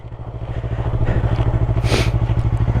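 A motorcycle engine idles in a steady low throb close by while the bike is walked forward and the clutch is eased out, the note swelling slightly as it takes up drive, with faint clatter on top.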